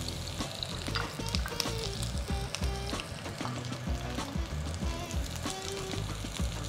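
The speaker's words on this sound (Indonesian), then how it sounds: "minyak bekas smoked beef-nya langsung aja kita tumis. Di sini ada bawang bombay." Onion sizzling as it fries in leftover smoked beef oil, a steady dense crackle and hiss with occasional stirring scrapes, close and continuous with no talking.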